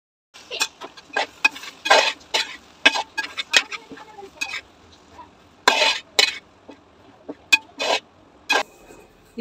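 Bread and chapati masala stirred in a pan, giving a run of irregular scraping and clinking taps of a utensil against the pan, close and fairly loud, with no talking.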